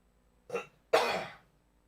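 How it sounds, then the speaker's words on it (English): Two harsh coughs close to the mic, a short one followed by a longer, rougher one, then quiet. "I'm going to cough."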